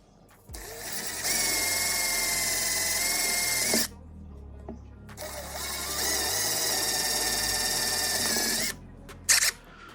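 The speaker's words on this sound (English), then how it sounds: "now we've got all the holes drilled and everything for all these" A power drill bores holes in the carbon fiber hull of a Superjet, giving two long, steady high-pitched whirring runs up close, separated by a brief pause and ending with a short final burst.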